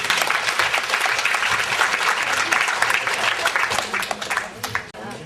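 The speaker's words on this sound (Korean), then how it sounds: "오늘 훌륭한 말씀해주신 연사님들께 다시 한번 큰 박수 부탁드립니다" Large audience applause at a conference session on intellectual property and women, sustained dense clapping that tapers off into scattered claps near the end.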